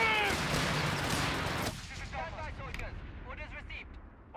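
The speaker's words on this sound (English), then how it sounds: "Return fire!" Rifle and machine-gun fire in Company of Heroes 3 crackles densely for over a second and a half, then drops to scattered shots under in-game soldier voices and radio calls.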